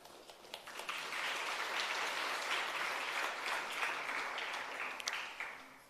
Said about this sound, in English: give a round of applause for the two entities